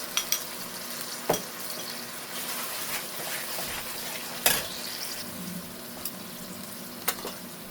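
Onion, garlic and ginger paste fry in a pan for a prawn and hilsa fish curry, a constant close sizzle punctuated by sharp scraping clicks of stirring at irregular intervals, with no talking.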